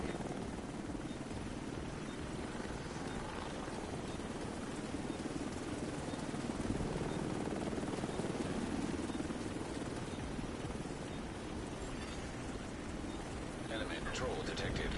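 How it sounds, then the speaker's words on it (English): Extraction helicopter in the video game Division 2, a dense continuous rotor roar that stays loud and steady throughout, with faint game sounds around it. "Chopper will leave in 30 seconds."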